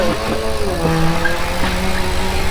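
Loud modified motorcycle exhaust roaring close by through an aftermarket silencer, a harsh throbbing drone with revs rising and dipping across the stretch.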